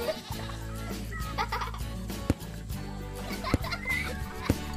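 Goats bleat in a mountain pasture, with a few short, high, wavering calls over a continuous bed of gentle music.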